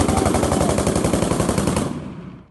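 Loud, rapid automatic machine-gun fire in Kharkiv, shot at a school building, rattles in a sustained burst for about two seconds before ringing out and fading.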